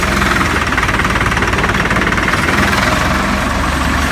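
A Salsco wood chipper engine idles loudly and close up, a steady, unbroken mechanical drone with a fast knocking pulse running through it.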